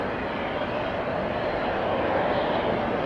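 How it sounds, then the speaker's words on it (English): A Southwest Airlines Boeing 737 lands against a south wind at Atlanta Hartsfield, heard as a steady broad roar of jet engines, moderately loud and distant, with no talking. "a Boeing 737 operated by Southwest Airlines battling a south wind as it"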